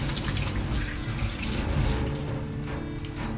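Tap water running steadily while onions are washed, a close, continuous splashing rush of water with no speech.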